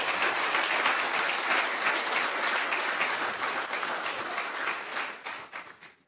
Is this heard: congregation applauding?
yes